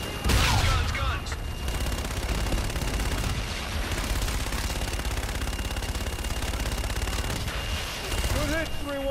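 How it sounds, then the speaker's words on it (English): Sustained strafing fire from an aircraft gun run in Call of Duty: Infinite Warfare, a dense continuous roar of rapid gunfire with a heavy opening burst, loud and close for the whole stretch, with brief radio-style voices mixed in. "Roger, inbound for gun run."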